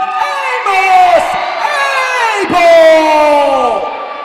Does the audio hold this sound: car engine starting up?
no